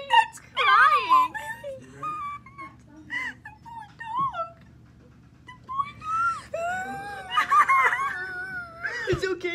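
A dog whimpers and cries in high, wavering whines that come in two bursts, with a long quiet gap between them, close by.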